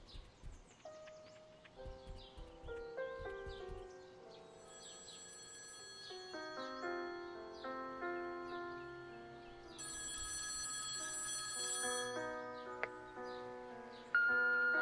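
A telephone rings in the video game Copycat, repeated electronic ring tones over quiet ambient game sound, with a brief low rumble early on and a louder burst near the end.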